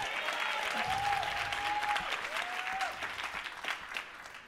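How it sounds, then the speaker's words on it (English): A conference crowd claps after a dance performance, a full burst of steady applause that swells and then starts to thin toward the end, with a faint feedback-like tone gliding above it. "please give Kiki a round of applause for that wonderful dance"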